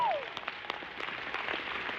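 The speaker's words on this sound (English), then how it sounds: "you go ahead and clap, you can give a clap" A brief burst of applause from a small audience at a PAX East convention panel, light and somewhat distant, with a short whistle-like tone at the start.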